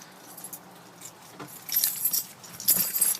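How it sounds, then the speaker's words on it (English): Keys jingle and clink close by in two bright bursts, the second a little louder, with no one speaking. "I'll make sure I get my keys here."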